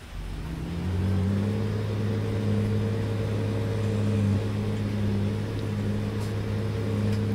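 A car in a farming video game drives onto a field, its engine droning steadily with a slight rise in pitch as it speeds up, then holding an even hum.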